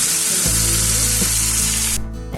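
Taro stems frying in a pan with onion and garlic give a loud, steady sizzle, with a faint tool-like hum underneath that cuts off near the end.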